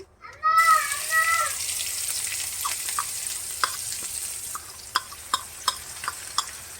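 Green chilli and ginger paste fries in a pan for a cabbage and coconut curry, giving a steady close sizzle with scattered clicks and scrapes of stirring after a brief quiet start.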